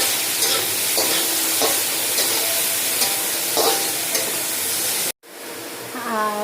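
Finely chopped onions fry in a pan for semolina momos, making a loud, steady sizzle with stirring scrapes, then cutting abruptly to a quieter background near the end.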